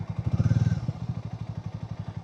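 Harley Davidson X440 motorcycle engine pulling hard up a steep road, a loud close, rapid pulsing thump that swells then settles into a steady rhythmic chug.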